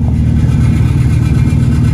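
Lowered stance car's engine rumbling loud and close, a steady low throbbing drone with slight revving swells and no break, heard on a road trip into a car show.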